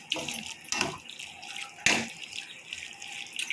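Water poured into a pan of cooking chicken masala, a soft splashing gush with two brief stronger pours, quiet and close with faint kitchen background and no talk.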